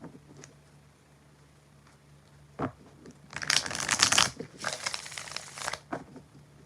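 Tarot cards shuffled by hand, a thin crisp riffle and a couple of clicks followed by two louder bursts of rapid rustling flutter, close by and alone.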